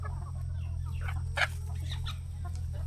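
Native country chickens on a farm at feeding time cluck and call in short irregular bursts, one sharper squawk standing out, over a steady low mechanical hum.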